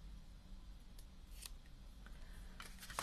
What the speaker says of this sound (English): I'm just going to trim the ends of these a little bit